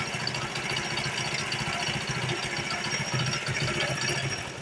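A motorcycle engine idles nearby with a steady, rapid rattling putter, unchanging throughout.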